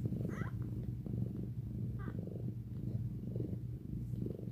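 Newborn kittens purr in a close, continuous low rumble, with a few faint high mews or squeaks breaking through now and then.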